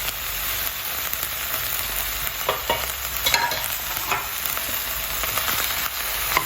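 Crushed coconut being stirred into a frying Kothamara (cluster bean) thoran in a pan, a steady low sizzle broken by scattered scraping stirs of the spoon, close and moderately quiet, with no talking.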